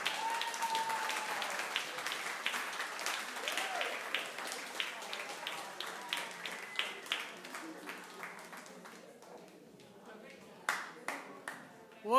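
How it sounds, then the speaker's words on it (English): An audience at a story night applauds Kim, a steady wash of clapping that thins into scattered individual claps and fades, with a few voices and cheers mixed in. "Round of applause for Kim"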